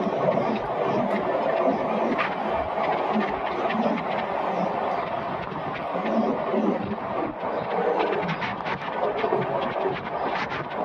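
A train rumbles across a railway crossover near Shankarpalli on the Lingampalli–Vikarabad line, giving a steady, loud running roar with scattered sharp wheel clicks and rattles throughout.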